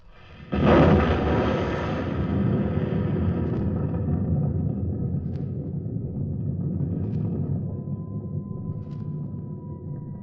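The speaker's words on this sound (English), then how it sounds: "You'll hear the sound of the explosion any second now." A large explosion erupts about a second in with a sudden loud blast, then rolls on as a deep, sustained rumble that slowly fades over the next nine seconds, with no voices.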